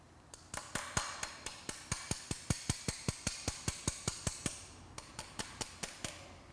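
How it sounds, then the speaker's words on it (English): A Vespa GTS Malossi cylinder kit part is tapped with a tool used as a makeshift hammer: a long run of evenly spaced sharp metallic taps, close and clear, pausing briefly near the end before a few more strikes. "Not the best tool to use as a hammer, but it worked."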